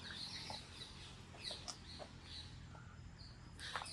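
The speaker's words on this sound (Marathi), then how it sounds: "सो इथे तुम्ही पक्ष्यांचे आवाज ऐकू शकतात" Birds calling in a planted, man-made forest, faint scattered chirps and clucking calls spread over a constant low background rumble, with a brief, louder cluster of calls near the end.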